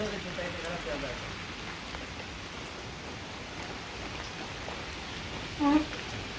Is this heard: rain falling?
yes